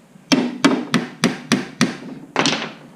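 An 18 gauge nail gun fires nails into wooden beehive brood frames: six sharp, close pops at an even, fairly quick pace, then a longer, looser thump to finish, with no talking.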